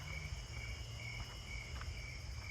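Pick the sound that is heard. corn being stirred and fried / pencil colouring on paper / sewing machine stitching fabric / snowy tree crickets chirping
snowy tree crickets chirping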